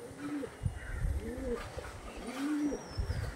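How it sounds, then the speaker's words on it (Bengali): Pigeons of a closed-breath type, shown at a pigeon sale, give soft, low, repeated cooing calls at close range, several rolling coos in a loose rhythm over quiet background noise. "একদম বন্ধ দমের পায়রা।"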